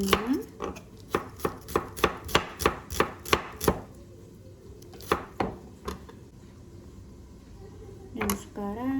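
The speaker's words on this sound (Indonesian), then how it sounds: "Potong bawang merah sampai selesai ya teman-temannya" Shallots are chopped with a knife on a board in a rapid, even run of about a dozen sharp close knocks, then a pause and a few slower chops and a final burst, with light talk in between.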